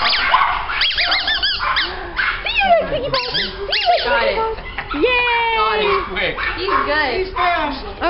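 A small puppy barks, yips and whimpers in high, squeaky bursts that come close and repeat throughout, with people talking over the noise.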